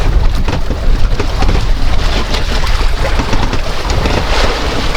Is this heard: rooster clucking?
no